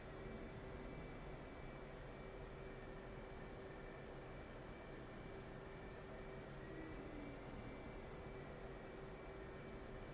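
Jet aircraft taxiing in the flight simulator DCS World, a steady low engine rumble with a constant whine, continuous and even throughout.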